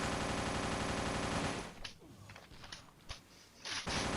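Rapid automatic gunfire from the Block City Wars video game fills the first seconds, loud and continuous, then breaks into scattered shots and short bursts before resuming at the end.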